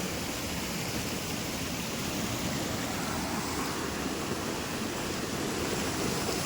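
Water from the overflowing Shetrunji dam near Palitana roars in a steady, dense wash with no letup, close and loud, with no voices.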